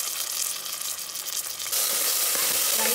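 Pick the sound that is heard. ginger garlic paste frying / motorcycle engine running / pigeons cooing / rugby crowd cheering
ginger garlic paste frying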